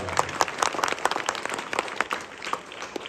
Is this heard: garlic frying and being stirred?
no